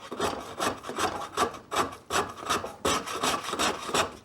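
A Surform rasp shaves a 3/4 inch pine piece in quick rhythmic strokes, around ten close, crisp rasping passes in bursts with short pauses, with no voices over it.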